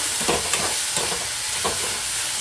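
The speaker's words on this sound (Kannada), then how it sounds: "ಟೊಮೆಟೊ ಹಾಕಬೇಕು. ನೋಡಿ ಚೆನ್ನಾಗಿ ಮಿಕ್ಸ್ ಮಾಡ್ಕೊಳ್ಳಿ" Tomatoes sizzling loudly in a hot pan, with a constant bright frying hiss and a few soft scraping strokes as they are stirred and mixed.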